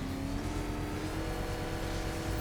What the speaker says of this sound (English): Let's rev this engine.